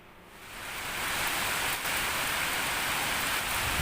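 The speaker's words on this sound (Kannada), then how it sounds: "ಈಗ ಭಯಂಕರ ಮಳೆ ಮಳೆ ಹುಡುಗು ಕೇಳ್ತಾ ಉಂಟಲ್ಲ" Heavy rain pours down in a dense, roaring hiss that swells within the first second and then holds loud and steady, with no voices.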